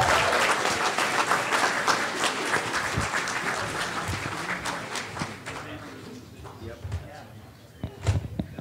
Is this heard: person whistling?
no